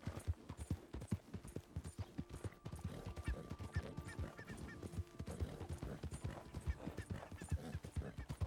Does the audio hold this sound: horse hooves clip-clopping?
yes